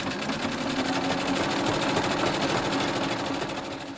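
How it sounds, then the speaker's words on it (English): A sewing machine runs continuously, stitching a pocket onto a patchwork skirt, with a steady rapid mechanical hum and needle clatter that holds close and loud throughout. "I'm down to sewing on the last piece of the pocket."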